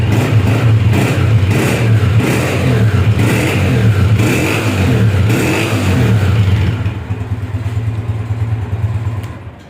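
A Honda CG 125 motorcycle in like-new condition with a sealed engine runs close by, its single-cylinder thrum loud and steady with revving pulses, then dropping to a lighter idle near the end.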